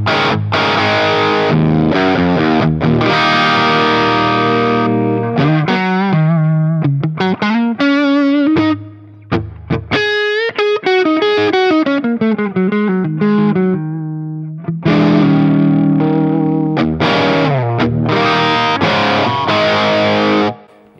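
Electric guitar played through a Fractal FM3 running a Marshall amp model on the normal channel, with distorted chords and single-note runs, loud and close and alone, with a couple of short pauses.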